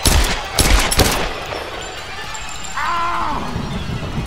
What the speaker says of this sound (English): I shot him fucking 3 times